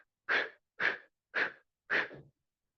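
Four deliberate, audible breaths drawn in during a gentle qigong practice, each about half a second long, evenly spaced and close to the listener, with no talking.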